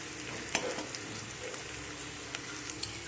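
Chilli paste mixture frying and being stirred in a pan, a steady close sizzle broken by several light spatula scrapes and taps, no one speaking.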